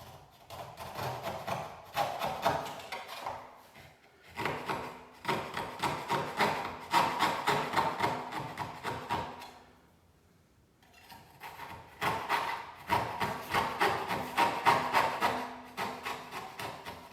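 A saw blade traces a scribe line along wooden skirting board in rhythmic rasping strokes, close and moderately loud, with groups of quick back-and-forth cuts broken by a pause midway.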